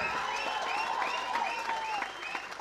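An audience at a stage event claps steadily, with scattered whoops and shouts rising over the applause.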